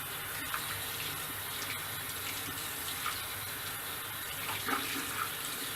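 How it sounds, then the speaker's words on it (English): Running water from a tap, slightly hot, flows steadily as a makeup brush is rinsed under it, a continuous close splashing wash with small bursts and no talk. "the water is getting in there, rinsing all of that off"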